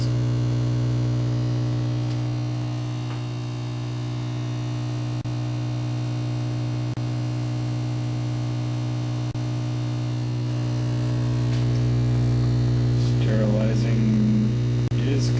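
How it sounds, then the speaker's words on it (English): A steady electrical hum drones throughout with a constant low buzz from a Statim 5000 steriliser's air dryer running after a sterilising cycle, with faint faraway sounds near the end. "Sterilizing is complete, and your air dryer is on right now."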